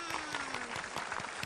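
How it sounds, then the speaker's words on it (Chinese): Applause from a family audience at a children's television game show in a studio, a steady, dense patter of clapping lasting a moment and filling the clip with no talk over it. "来为自己鼓掌"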